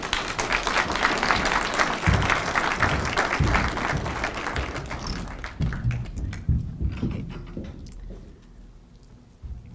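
An audience applauds to welcome Dr. Adcock onto the stage at an evening talk, a dense steady clapping that gradually thins and fades into scattered claps and room murmur.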